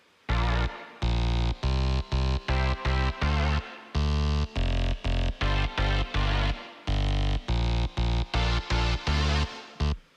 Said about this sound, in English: I also found this chord progression that was in the same sound pack as the bass